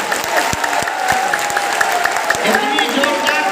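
A large audience at a live religious gathering claps steadily in a sustained wash of applause, with sharp individual claps standing out and a voice continuing over it.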